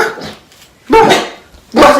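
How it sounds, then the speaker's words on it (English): A small, yippy pet dog yaps in sharp, loud bursts, with a pause between two close barking spells. "it's a little yippy dog"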